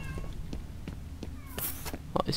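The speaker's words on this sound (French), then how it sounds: "M'énerve ce chat." A cat meows several times close by in a room, short insistent calls over a quiet background of video game sound, with one sharper cry near the end.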